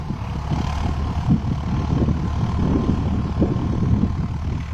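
A new Farmtrac 60 tractor, fitted with 14-inch tyres, drives over uneven ground with one tyre dipping into a pit, its diesel engine giving a steady low rumbling chug close by, rough and continuous throughout.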